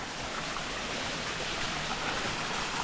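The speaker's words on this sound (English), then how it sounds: "There's some very fast flowing water around here. Can't see it though, it's in the crevice down there." Fast water rushes unseen through a rock crevice below a mountain summit in the Budawangs wilderness. It makes a steady, dense hiss and roar, constant and unbroken, with no voices.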